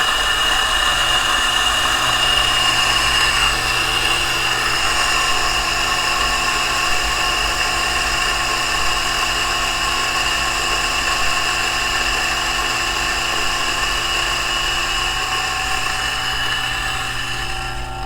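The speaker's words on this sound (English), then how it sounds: "These SSP burrs, I think, take about twice as long as the stock burrs." A DF64 coffee grinder fitted with SSP burrs grinds Gesha coffee beans, a steady loud motor whir with a grinding rasp that holds continuously for the whole stretch without pause, no talking over it.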